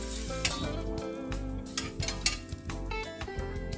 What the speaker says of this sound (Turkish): Sos kabının içine tereyağını ekliyorum önce. Yağı bir eriteceğim.